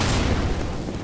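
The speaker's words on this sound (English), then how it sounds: "Throwing flashbang." Flashbang grenade going off in Counter-Strike: Global Offensive, a loud, dense broadband blast that decays over about a second with no talking.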